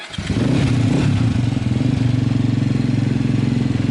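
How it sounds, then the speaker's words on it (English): A loud, close adventure motorcycle engine drones steadily with a pulsing, labouring throb, pulling hard under load while climbing a hill. "So here's Lyndon riding Sheila up this hill"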